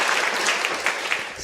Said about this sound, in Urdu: پارٹیسپینٹ ڈے کے لیے تالیاں ہو جائیں.